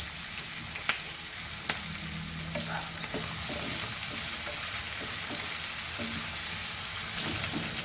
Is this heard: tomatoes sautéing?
yes